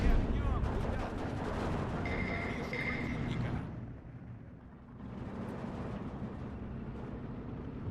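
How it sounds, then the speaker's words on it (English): Aircraft strafing grenadiers in the WW2 strategy game Steel Division 2, with a dense roar of gunfire and explosions in the first half, a brief high whine near two seconds, then a lower, steadier rumble of continued battle. "I'm going to strafe those grenadiers"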